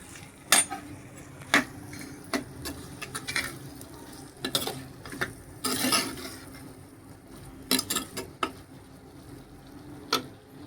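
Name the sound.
eggplant frying in oil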